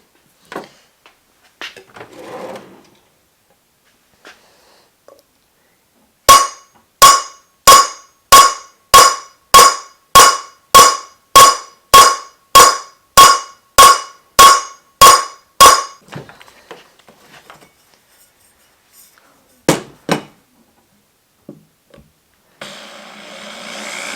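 Car body sheet metal on a budget turbo Honda Civic is flattened before welding with about fourteen loud, evenly spaced ringing hammer blows, close by. A few more strikes come later, scattered among quiet handling noises.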